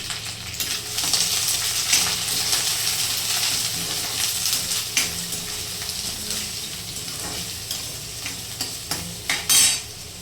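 Curry leaves and garlic sizzle in hot oil in a pan, a steady loud frying hiss with stirring clatter and scraping throughout, close up, with a brief voice near the end.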